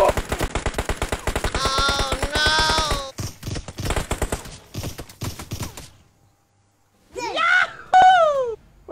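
Rapid automatic gunfire in a video game rattles in quick bursts, broken by short pauses, while a person talks and shouts excitedly over it.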